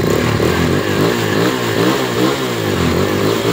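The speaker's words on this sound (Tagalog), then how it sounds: "Kinaya ng push start. Ang ganda ng reaction ng ano, makina oh." A motorcycle engine running right after a push start, following a fresh spark plug on a bike that misfired and would not start, holding a loud, close, steady throbbing rev with a rough pulsing beat.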